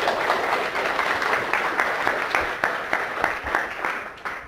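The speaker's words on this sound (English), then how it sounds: "Give these ladies a big round of applause." Live seminar audience applauding at a hypnosis event, a full round of clapping with pulsing accents that fades slightly toward the end.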